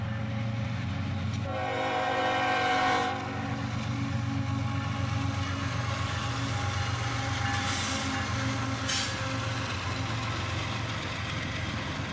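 A freight train hauled by a four-unit lash-up including a Union Pacific YN2 and a pair of EMD locomotives passes with loud continuous diesel rumble and rail noise, and a horn blast sounds near the start.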